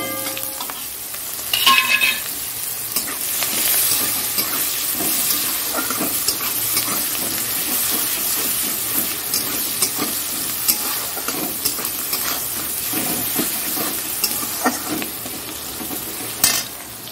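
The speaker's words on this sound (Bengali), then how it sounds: "এবার একটু আমি পেঁয়াজ দিয়ে দেবো, পেঁয়াজ কুচিয়ে রেখেছি আর কাঁচা লঙ্কা" Chopped onions and green chillies fry in a pan while being stirred, a loud, continuous close sizzle broken by metal spoon scrapes and a couple of clanks against the pan.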